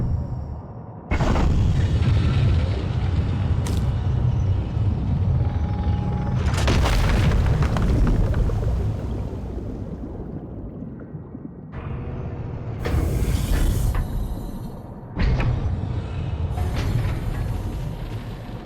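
Power plant machinery roaring to life in Subnautica 2, several heavy booming surges that start abruptly, hold as deep rumbling drones, and then fade between bursts, with no one speaking.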